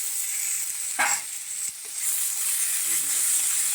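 Horse gram (bobbarlu) sizzling in a pan as it is fried, a steady close hiss with a brief stir or clatter near the middle, no voices.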